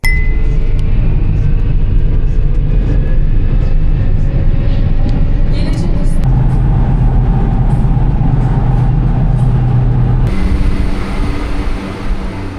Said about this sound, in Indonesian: Kecepatan operasi Marmaray ini bisa mencapai 100 km per jam di segmen luar terowongan.